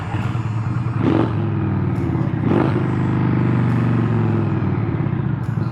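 Engine of an Indian motorcycle with performance enhancements, idling close by in a steady, throaty rumble with two short throttle blips that swell the sound before it settles back to a loud even idle.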